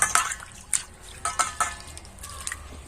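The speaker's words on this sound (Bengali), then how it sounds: "এক একটা করে এরকম ধুয়ে নেব" Fresh coriander leaves are rinsed one by one in water, producing soft intermittent splashes and drips, quiet and close, with short pauses between them.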